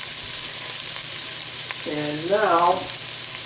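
Beef and tomato product cooking together in a pan, a steady bright sizzle running throughout, with a brief spoken phrase and a short rising-falling voiced tone near the end.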